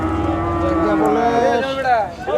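A cross-breed bull at a cattle market gives a loud, close drawn-out moo that rises and bends in pitch, with a brief second call at the end and market noise behind.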